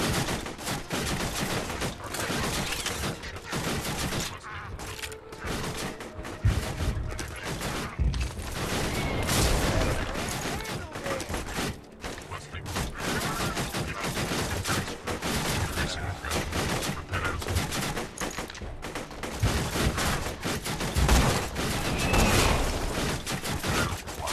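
Dense, continuous gunfire from Borderlands 2, rapid volleys and overlapping shots rattling throughout at steady high loudness.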